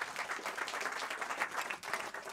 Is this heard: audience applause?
yes